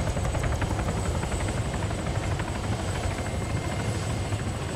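A loud helicopter in the video game ArmA 3 roars close by, its rapid rotor chop pulsing steadily and filling the whole stretch without pause or speech.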